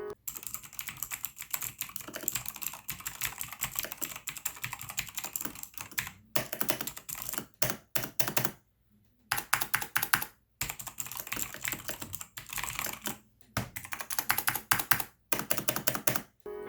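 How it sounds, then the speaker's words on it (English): Rapid clattering keystrokes on a mechanical keyboard, loud and close, in bursts separated by short pauses. "Just listen to the amount of noise this keyboard makes."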